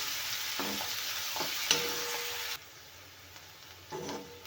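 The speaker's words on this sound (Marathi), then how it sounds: "हिरवी मिरची आणि कांदा पण तेलामध्ये लाल होईपर्यंत भाजून घ्यायचा आहे" Green chili and onion frying in oil in a pan give a steady, fairly loud sizzle with a few stirring scrapes. About halfway through the hiss drops to a quieter crackle.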